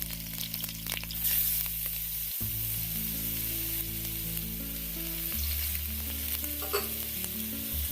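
Finely chopped carrots stir-fry in hot oil for vegetable fried rice, a steady close sizzle with scraping stirs and occasional clatter throughout, no voices.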